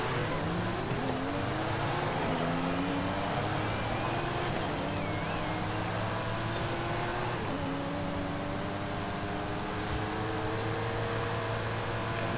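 A car engine drives steadily in Forza Horizon 5, holding a loud, continuous drone with rising pitch sweeps as it accelerates and shifts, under constant road and wind noise.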